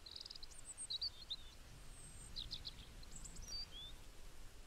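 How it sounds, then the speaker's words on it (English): Faint, distant bird chirps and short tweets from a K-pop music video come in scattered bursts over a quiet background of soft outdoor hiss, with a bit of wind. "Birds chirping. Bit of wind."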